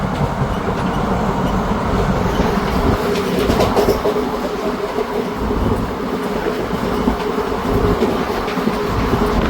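The Sri Ganganagar Intercity Express, train 14125, rumbles steadily along the rails between Patiala and Bathinda, a continuous loud roar with faint rhythmic clatter of wheels, heard from on board.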